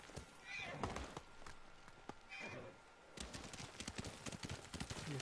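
A horse in Ghost of Tsushima clip-clops along with sharp, fairly rapid hoof strikes, broken by a couple of whinnies and neighs, all heard at moderate distance.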